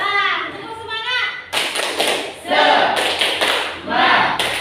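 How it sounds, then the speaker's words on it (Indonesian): A school class doing a rhythmic spirit clap routine, bursts of group clapping and thumps in patterned rhythm, mixed with children's chanting voices and a teacher speaking at the start. "Coba tepuk semangat."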